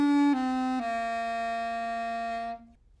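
A reed woodwind instrument, introduced to a school audience, plays a few clear sustained notes, stepping between pitches before the last tone fades out, close and alone with no talking.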